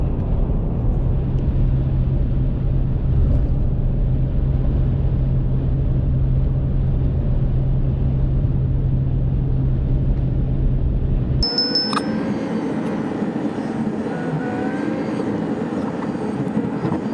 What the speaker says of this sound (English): I am now on my 4 hour drive to South Georgia Motorsports Park.